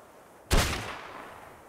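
A single sharp gunshot in the ARK: Survival of the Fittest battle royale game cracks out loudly, then trails off in a long fading echo.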